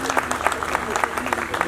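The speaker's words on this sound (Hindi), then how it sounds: "उनके लिए आप तालियां बजाएं" Audience clapping, a short burst of many hands applauding at moderate distance with a voice faintly underneath.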